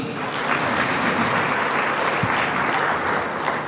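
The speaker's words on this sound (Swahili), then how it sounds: "Naomba tuwapigie makofi." An audience at an African food forum at the State House in Dar es Salaam breaks into sustained applause, a dense steady clatter of many hands with no speech over it.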